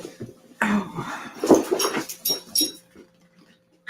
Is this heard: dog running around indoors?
yes